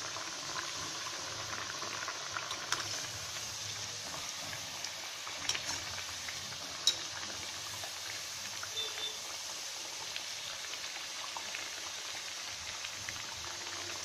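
Mathri dough frying slowly in oil over a low gas flame, a steady soft sizzle and bubbling hiss that continues evenly throughout with a few small crackles.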